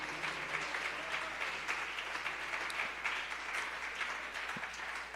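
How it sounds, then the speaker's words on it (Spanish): A church congregation at an evening service claps for the King, a faint, distant, even wash of applause heard from across a large room. "¿Cuántos tienen un aplauso para el Rey esta noche?"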